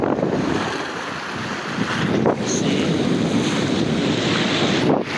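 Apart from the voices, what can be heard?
wind by the sea at Bato, Leyte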